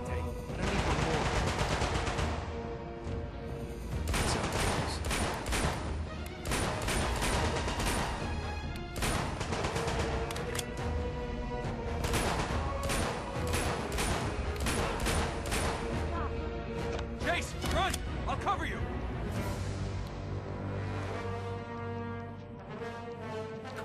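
Sustained gunfire in the video game Uncharted: Golden Abyss, dense bursts of automatic shots and impacts layered over loud game music, continuous throughout with little pause.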